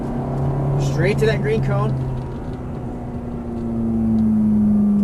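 A Ferrari F430 F1 on a racetrack, its engine droning steadily under an instructor's speech and then rising in pitch and loudness as throttle is applied.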